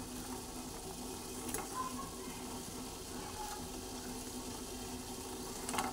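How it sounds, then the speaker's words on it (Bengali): Flattened rice balls simmering in syrup in a pan, a faint steady bubbling and soft liquid churn with no voices. "দিয়ে এইভাবে আমি 3-4 মিনিট মতো ফুটিয়ে নেব"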